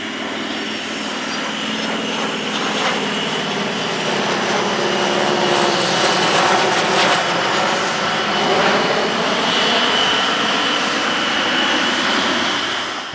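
A mixed formation of eight trainer aircraft from across the ages, including a single-seat camouflaged MB326K jet, roars past at the Italian Air Force centenary airshow, a loud sustained engine rush that swells and fades with no talk.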